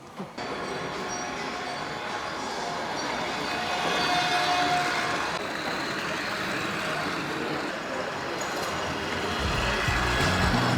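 A train rumbles past nearby in Prague, its steady mechanical roar swelling and holding as the cars roll by.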